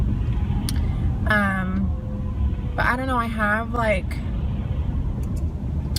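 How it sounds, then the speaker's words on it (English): Steady low road rumble inside a car stuck in slow traffic, a continuous engine and tyre drone running the whole time beneath a person talking. "we are stuck in traffic"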